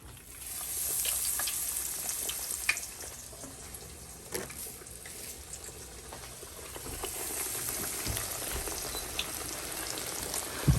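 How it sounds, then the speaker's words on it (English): Breaded meat cutlets fry in a pan of hot oil with a steady, close sizzle and crackle that runs throughout, broken by a few faint clicks, with no talking. "now we're gonna start frying it."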